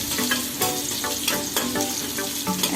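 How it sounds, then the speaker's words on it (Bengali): Lightly salted shrimp fry in a pan, giving a bright, continuous sizzle broken by short clattering stirs, close and alone. "এখন চিংড়ি মাছটা ভাজা হয়ে গেছে"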